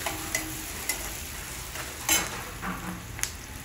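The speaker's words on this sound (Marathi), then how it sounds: "हळद टाकल्यानंतर कांदा हलवला." Onion with turmeric stirred and frying in a pan for a cluster bean stir-fry: a steady close sizzle with a few sharp scrapes and clicks from the spoon, no voices.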